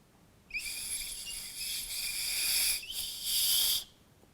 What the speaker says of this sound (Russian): эта свистулька еще звучит.